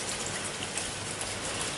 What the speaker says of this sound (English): Days later, it rained.